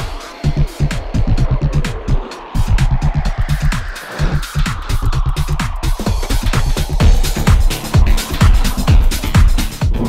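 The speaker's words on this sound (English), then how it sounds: "I'm going to go around the roundabout a few times to see how much I can get out of this car" A Nissan Leaf electric car circles a roundabout repeatedly, its low road and tyre rumble steady and close throughout, with a faint rising whine and frequent sharp clicks and knocks from inside the cabin.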